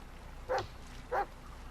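A dog in the Blair Witch video game gives two short barks or yips about half a second apart, moderately loud over a low, steady background hum.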